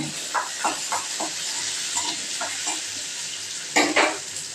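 Small onions sautéing in oil for kurma give a soft, steady sizzle, with a few quiet stirring scrapes and a louder clatter of the spoon near the end. Nobody speaks.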